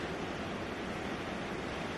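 Alcohol fuel poured carefully from a wide-mouth bottle gives a steady, even rushing trickle for two seconds, soft and uninterrupted, with no talking.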